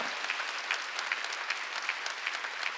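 A church congregation at a Sunday worship service in Korea applauds, an even wash of many hands clapping at moderate distance that holds steady throughout.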